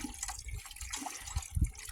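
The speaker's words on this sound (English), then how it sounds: "I look at the water pouring out of that thing." Water gushes from a newly dug and installed hand pump well in northern Maine, a steady close splashing flow with a few heavier bursts near the end.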